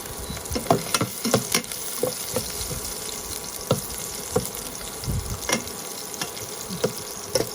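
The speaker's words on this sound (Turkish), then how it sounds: "Şimdi 3 kaşık zeytinyağı koydum. Ve bu sarımsakları böyle kızartacağım." Garlic sizzles and crackles in hot olive oil, with scattered pops and the occasional scrape of a utensil, close up and without talking.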